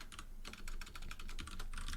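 Fast typing on a computer keyboard while writing game engine code, with bursts of rapid key clicks close to the microphone and brief pauses between words.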